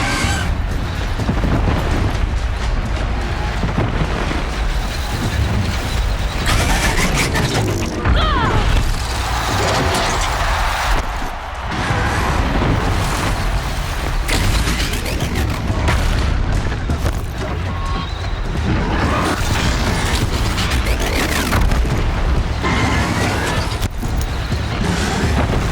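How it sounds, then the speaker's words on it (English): Heavy crashing, booming and grinding as a platform collapses in Horizon Zero Dawn, a sustained loud rumble with repeated impacts and mechanical clatter running throughout, no talking. "That platform collapses."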